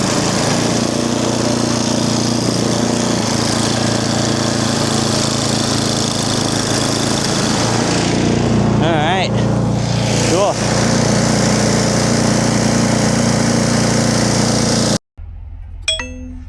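A snowblower engine runs steadily while clearing snow during a 2026 snowstorm, a loud continuous drone with scraping and clatter, then cutting off abruptly near the end.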